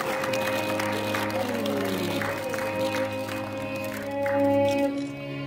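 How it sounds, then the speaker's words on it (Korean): Audience applause in a large auditorium at a New Year greeting ceremony and inauguration, a moderate wash of clapping beneath sustained music or tonal background sound, swelling slightly near the end. "자, 큰 박수 해주시기 바랍니다"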